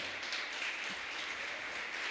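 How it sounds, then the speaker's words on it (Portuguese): A church congregation at a Portuguese-language service applauds, producing a faint, even wash of clapping heard from a distance that holds steady throughout. "Você pode aplaudir ao Senhor?"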